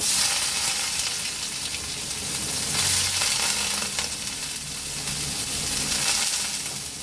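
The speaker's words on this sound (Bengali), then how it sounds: "এইটা এবার আমি নারকেলগুলো ভেজে নেব।" Coconut pieces fry in hot oil in a wok, making a continuous, close hiss of sizzling that swells gently and stays steady throughout, with no voices.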